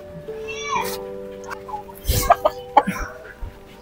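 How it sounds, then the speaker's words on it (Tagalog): A fighting rooster crows near the start before a cockfight, followed by scattered clucks, coughs and short bird calls in an outdoor setting. "Champi, ayun yung manok oh."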